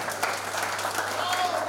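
Wedding guests at a ceremony in Tetovo give the young couple a brief burst of applause, a dense wash of clapping that carries under a speaker's amplified voice.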